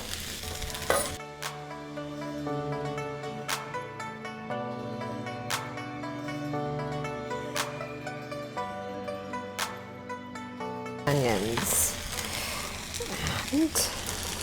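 Fried rice with soy sauce crackles in a hot pan, a soft sizzle that sits under music for most of the stretch before swelling into a louder, brighter hiss near the end.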